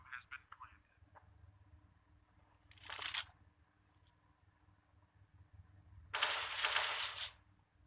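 Gunfire in a professional Counter-Strike esports match comes as two short rattling bursts, the second longer and louder, set against quiet background commentary-level talk.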